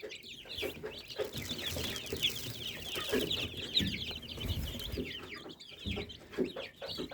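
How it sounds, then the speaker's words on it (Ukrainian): Hens clucking and newly hatched chicks peeping in a busy, continuous mix of bird calls, fairly close and steady throughout. "Ось вчора в нас вилупились курчатка 22 травня."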